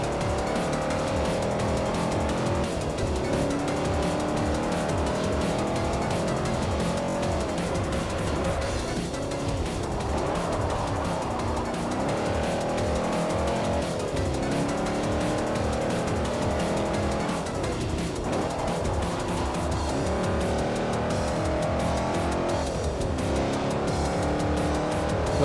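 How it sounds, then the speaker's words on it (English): A Chevrolet Chevelle SS V8 engine roars continuously under racing, with rising and falling revs and repeated gear shifts, loud and close with faint tire noise and no talk. "Lovely sound of a V8 motor."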